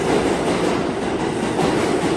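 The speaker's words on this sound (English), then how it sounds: "There's that train, let's get on board" A New York subway M train pulls into the station, a loud, continuous rumble and rattle of rail cars with steady clickety-clack filling the whole stretch, close by and with no voices.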